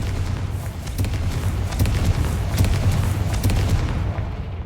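The Confringo explosive spell from the Hogwarts Legacy video game bursts as a sustained rumble of deep booms and rapid crackling blasts. It stays loud and steady throughout, with no voices.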